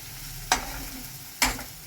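A spatula stirs food sizzling in a hot pan with green chillies, giving two distinct scraping strokes about a second apart over a steady frying hiss.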